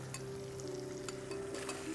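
Mutton fries with masala in a wok, a quiet steady sizzle with a few soft stirring scrapes and clinks over a low hum.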